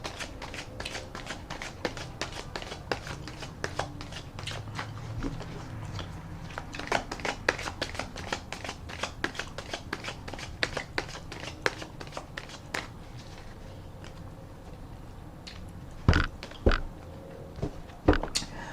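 Repeated riffle shuffles of a tarot card deck, crisp papery bursts and flutters close by, with soft handling rustles between them and a few sharper snaps near the end.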